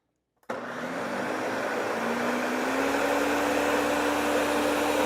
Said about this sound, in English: We'll turn on the blender first.